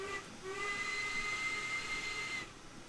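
A steam locomotive whistle in Train Sim World 2 gives one long, steady blast of about two seconds over a hissing background, ending abruptly.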